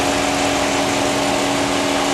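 Dodge Challenger with a 5.7 liter V8 engine running under an open hood, a loud, steady, continuous engine roar with a constant tone and no pauses.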